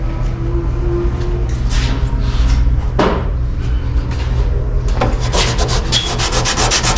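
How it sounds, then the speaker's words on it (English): Scuffing the body of a 1962 Impala by hand before applying filler makes close, loud rubbing and sanding strokes in an uneven rhythm, with sharper scrapes near the middle and a busier flurry toward the end. "you can scuff all this by hand. That way the filler has something to stick to"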